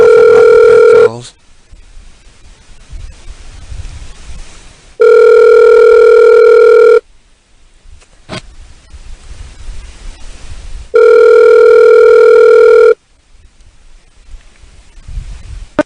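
A telephone rings on the line during a prank call: three loud, electronic two-second rings spaced by quiet gaps of about four seconds, with faint line noise between them.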